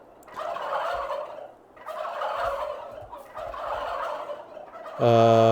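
A flock of turkeys gobbles in Farming Simulator 22, their rattling calls coming in three long overlapping bursts, fairly loud and near, followed by a sudden brighter, harsher tone at the end.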